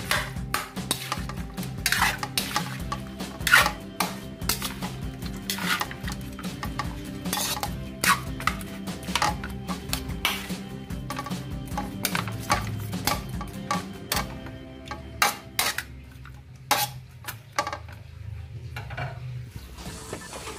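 Garlic sautés in a pan for chicken pork adobo with egg, a spoon clattering and scraping steadily against the pan over a soft sizzle, with rapid metallic stirring clinks throughout.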